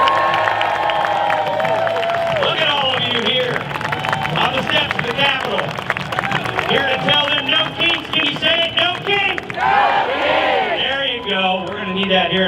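A large rally crowd on the steps of the Capitol cheers and claps, sustained applause and whooping filling the air at full volume, with shouts and voices rising through the clapping.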